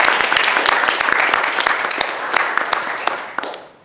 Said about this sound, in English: Big round of applause for Professor Chu.